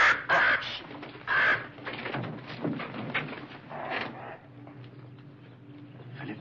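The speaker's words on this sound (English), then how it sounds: "Oh, that dreadful bird." A crow caws several times, loud and close, in harsh bursts early in the clip and again midway, with scattered rustling and fainter calls between.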